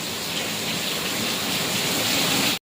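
Heavy thunderstorm rain pours down in a dense, steady roar close by, with no voices, ending abruptly.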